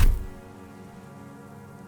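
A rifle laid carelessly down on sand in the video game Disco Elysium: one short, dull thud right at the start, then a quiet, soft ambient bed.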